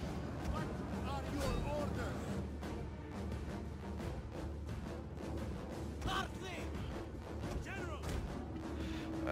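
Battle units open fire in Total War Rome 2 during a naval-era fight, a dense wash of booming volleys and crackling shots under constant battle noise, with someone talking throughout.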